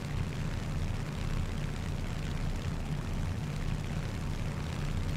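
Continuous broad drone of a propeller aircraft engine in the War Thunder game, a dense, even roar that stays level throughout with no voices over it.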